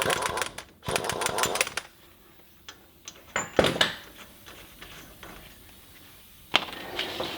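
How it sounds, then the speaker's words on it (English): Bursts from a 35mm impact wrench loosening the front axle nut on a Toyota during wheel bearing replacement, with several loud rattling hammering bursts separated by pauses and quieter clanks. "now using a 35mm impact, we're going to take the axle nut loose."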